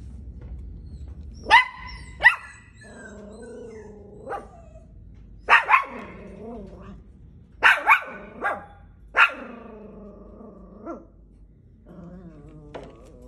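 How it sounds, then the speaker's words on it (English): A client's small dog with little white feet barks in short sharp bursts, scattered across the stretch with whimpery yips and pauses between them, close and clear with no talking. "Barking."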